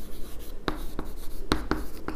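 Pen writing by hand on paper, close and clear, a run of short scratchy strokes in an uneven rhythm with no talking.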